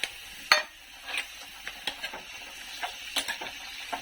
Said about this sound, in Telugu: ఇప్పుడు నేను బీట్రూట్ వేస్తానండి ఫ్రై కట్ చేసుకున్న ముక్కలు